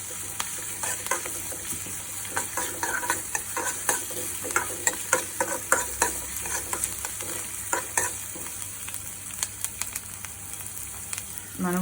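Tomatoes added to golden fried onions sizzle steadily in a pan, with frequent scraping stirs of a utensil through the mix over the continuous frying hiss, no talking.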